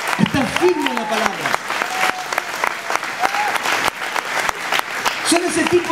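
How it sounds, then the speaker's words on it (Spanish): Church congregation applauding during a sermon, dense hand claps ringing out with a preacher's voice rising over them, sharp individual claps standing out near the front. "den un aplauso al Señor"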